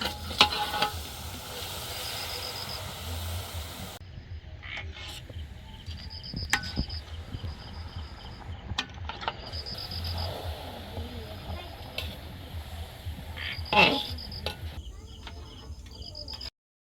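Rice flour dough being stirred in a pot for rice rotis in a village kitchen, with soft intermittent scraping and faint sizzling, insects chirping in the background and brief voices nearby.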